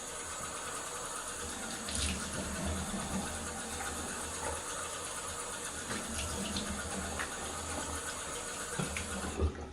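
Running tap water splashes steadily as a non-folding kamisori-style shavette razor is rinsed under it, with occasional small clinks and knocks over the continuous flow.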